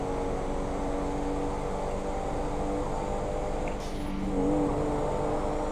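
A fast car in GTA 5 accelerating hard, a steady loud engine roar that holds and rises slightly toward the end, heard alone without talk.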